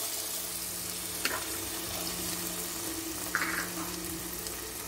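Onion and tomato sizzling steadily in hot oil in a pan for a home-cooked lunch of beef meatballs, a soft continuous fry with a couple of faint clinks and no talking.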